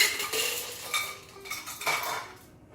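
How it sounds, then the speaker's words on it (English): Ice tumbles into a large cocktail shaker being filled with cucumber vodka, giving a few close, bright clinks and rattles that settle quickly. "Add a little ice to our large shaker."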